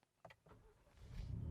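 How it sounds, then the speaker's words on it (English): A 2024 Ford Ranger Raptor pickup starting up: a few faint clicks, then the cranking engine catching and swelling into a low, rising rumble that grows louder toward the end. "now we're going to go ahead and start up the truck"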